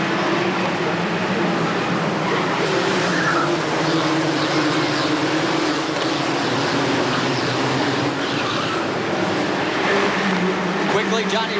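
Barber Saab Pro Series race cars roar as a pack at the 1991 Miami street circuit start, a dense continuous engine wash taking the green flag out of turn 11 under a commentator's voice.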